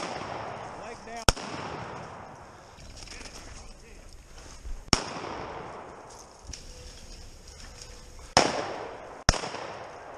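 Sharp shotgun blasts crack out during an outdoor quail hunt, several separate reports spread across the stretch, the loudest near the end, with voices talking in between.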